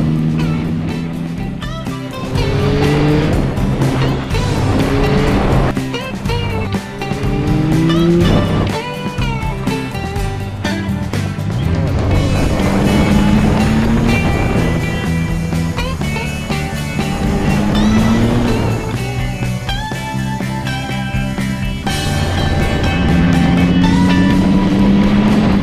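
A Yamaha XSR900 motorcycle engine revs while riding on damp roads, rising and falling repeatedly through gear changes and loud, near throttle sweeps with a whining, harmonic pitch.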